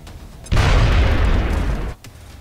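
A grenade detonates in XCOM: Enemy Unknown, a single loud booming blast with a deep rumbling tail lasting about a second and a half before cutting off abruptly.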